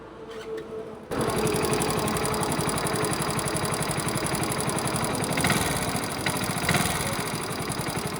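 A Honda Splendor motorcycle running on ethanol blend fuel idles with a steady, buzzing mechanical rattle, as if something inside has come loose; it starts abruptly after a second and holds close and loud with a fast, even ticking throughout.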